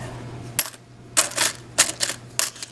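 Quarters clink and drop in four separate bursts as coins are collected from a laundromat machine, with a steady low hum running underneath.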